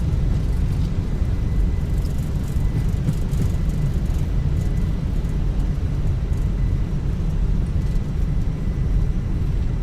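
A Jet2 Airbus A321 in a flight simulator rolls out after landing at night with reverse thrust and braking, a loud, steady, broadband engine roar that holds at constant strength throughout, with no voices.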